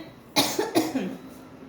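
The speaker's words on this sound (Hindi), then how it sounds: "बोलते बराबर खांसी आ गई" A single person coughs twice in quick succession, close and fairly loud, with a brief throaty follow-up.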